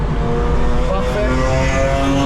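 A rented BMW runs at full throttle on the Nürburgring, heard from inside the cabin as a loud, dense engine drone that holds steady and strains upward throughout.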